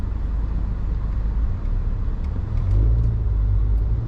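Busy road crossing with a continuous low rumble of passing cars and engines, heard from inside a vehicle, swelling slightly louder toward the end; no talking.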